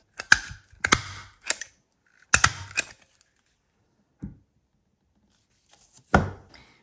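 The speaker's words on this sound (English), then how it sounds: "We could take these 3 leaves and just staple them together." A stapler punches through a few paper leaves in a quiet room, making sharp, close clacks in short clustered bursts separated by silent gaps, with a final louder crunch.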